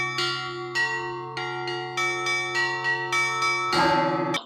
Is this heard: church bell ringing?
yes